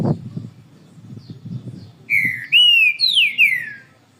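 A green-winged saltator sings a loud, clear run of sliding whistled phrases in the second half, following a stretch of faint low background chatter.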